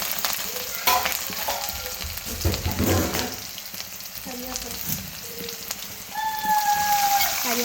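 Ginger frying in a pan for a Kerala-style pickle, a close steady crackling sizzle like rain on a surface, with stirring scrapes and a bit of talk mixed in.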